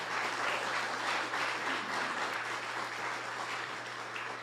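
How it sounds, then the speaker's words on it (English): An audience claps a round of applause for a sister cities commission at a welcome event, continuous and fairly even throughout at moderate distance, with a steady low hum underneath and no speech. "Let's give them all a round of applause."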